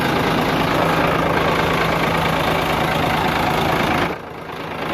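A Howo truck engine runs steadily during a clutch check, a loud, close, low idling rumble that drops away sharply near the end.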